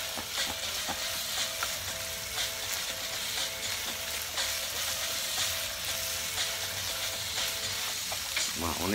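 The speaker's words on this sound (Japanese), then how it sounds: "まあお肉もねいい色に焼けてきましたね。" Meat frying in a pan, a steady close sizzle and crackle that continues evenly throughout with faint stirring and no talking.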